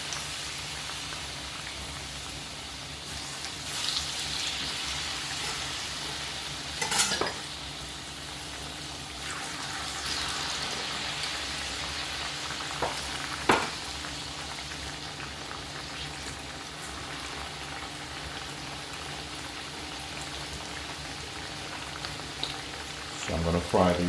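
Plantain slices fry in hot oil, a soft continuous bubbling sizzle with a few louder pops and clatters as pieces are turned, fairly quiet throughout.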